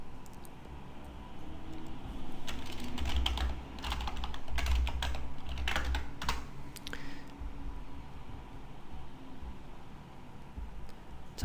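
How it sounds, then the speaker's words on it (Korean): Clicky keystrokes on a computer keyboard come in irregular bursts during a JavaScript coding session, dense typing through the middle then thinning out, alone with no voices over a soft steady background hiss. "자, 한번 타이핑을 해보죠."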